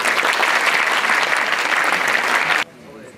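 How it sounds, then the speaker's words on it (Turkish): Loud, dense applause from a seated audience at a corporate R&D meeting in a hall, steady for over two seconds before cutting off abruptly into quieter room tone. "Bir alkışlayalım."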